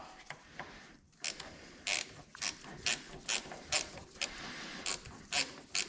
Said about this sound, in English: Once you feel a little resistance on the ratchet, stop.